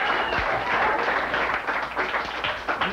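Audience applause at a comedy show, a dense, steady wash of many hands clapping close by for about three seconds, with no one speaking over it.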